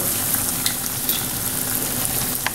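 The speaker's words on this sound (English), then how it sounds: "And I got these onions right here still simmering." Onions simmering and sizzling in a pan after frying pork chops for smothered pork chops, a steady close crackle with occasional faint stirring taps.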